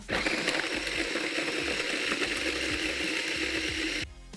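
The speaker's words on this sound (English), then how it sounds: "scoop the chilies and the capsicum and the garlic into a blender, and you want to blend this to a really smooth paste" A blender whirs loudly and steadily as it purées chilies, capsicum and garlic into a smooth paste for Thai sriracha sauce, running nearly continuously before cutting off abruptly at the end.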